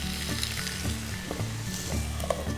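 Potatoes pan-frying in oil for a Sindhi breakfast dish, sputtering and crackling steadily throughout with scattered louder pops, close and alone without talk.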